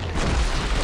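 A grenade detonates in Killing Floor 2, giving a single loud, rumbling boom that fills the short moment with heavy low-end blast noise.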